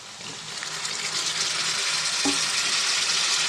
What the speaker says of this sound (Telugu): ఇవి కూడా కొంచెం ఫ్రై అవ్వాలండి ఓకే అండి టమాటా కూడా మగ్గిపోయింది కదా